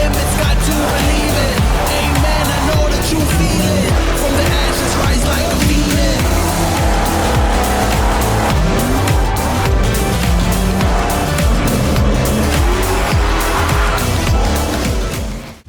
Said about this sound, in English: Cars feature smooth weight transfer, deep tuning options, and grounded drifting physics that emphasize precision and control.